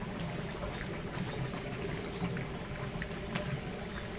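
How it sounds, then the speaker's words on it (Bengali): Prawns frying in oil over a charcoal fire make a steady, dense bubbling sizzle at moderate distance, continuous throughout with no talk. "এটা চিংড়ি মাছ ফ্রাই হচ্ছে আর কি।"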